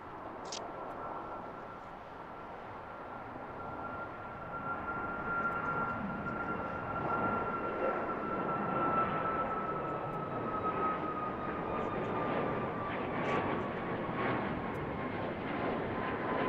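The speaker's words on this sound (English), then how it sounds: "Mark, the Legion was an A320. The Insomniac livery." An Airbus A320 jet roars steadily at BWI airport, its engine noise swelling and holding loud with a thin whine drifting overhead, no talk.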